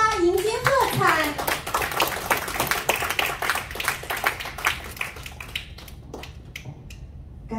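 Applause at a club officer installation ceremony, a crowd clapping loudly and continuously in a busy rhythm that slowly thins toward the end, with a voice and children's chatter mixed in at the start.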